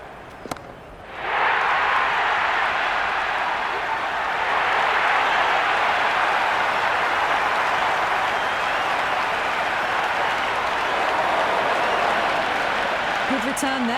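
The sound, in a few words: cricket stadium crowd applauding and cheering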